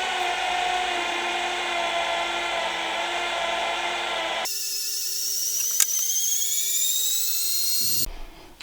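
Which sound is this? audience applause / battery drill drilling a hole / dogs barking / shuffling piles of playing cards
battery drill drilling a hole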